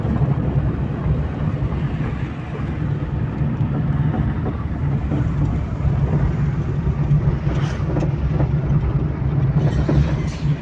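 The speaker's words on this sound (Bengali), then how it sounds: "আপনারা দেখতেই পাচ্ছেন আমরা চার চাকা নিয়ে ঘুরছি" A four-wheeled car cruises along with a continuous, fairly loud low rumble of engine and road noise throughout, steady and unbroken, with no one talking.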